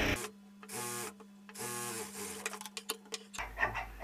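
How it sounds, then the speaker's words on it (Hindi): A sewing machine stitches piping onto fabric in short whirring bursts separated by pauses, close and clear, followed by some handling clatter. "यह देखिए इस प्रकार से लगाएंगे हम सिलाई पाइपिंग के लिए।"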